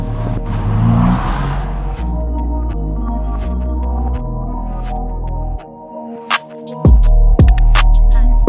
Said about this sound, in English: the Ferrari F8 Spider is waiting for us, and it's time to go for a drive